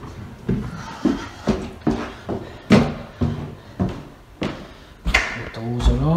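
Newly fitted kitchen cupboard doors open and shut again and again in a steady rhythm, each close landing as a soft knock or thud close by, with brief speech over part of it.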